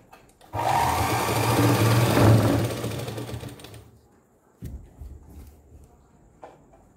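A sewing machine runs a continuous stitching burst on a homemade newborn cloth diaper. It is loud and close for about three seconds, then fades, leaving a few soft handling knocks.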